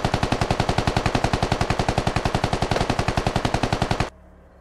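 Sustained automatic gunfire from a video game firefight in Squad, a fast steady burst of evenly spaced loud shots lasting about four seconds, then cutting off abruptly to quiet.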